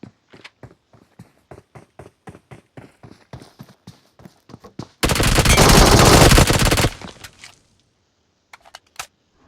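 In a PUBG match, a run of separate gunshots sounds in steady succession, followed by a loud sustained burst of automatic fire for about two seconds, then a few scattered shots fading out.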